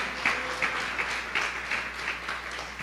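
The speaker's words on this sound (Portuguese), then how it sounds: "Dê uma salva de palmas ao Senhor." A church congregation claps in a steady rhythmic beat, moderately distant and soft, with a low hum underneath and no talking.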